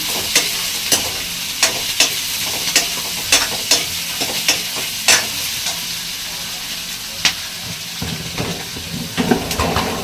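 Steady sizzling of onions frying in a pan, with repeated sharp scraping clicks of a spoon stirring and hitting the pan.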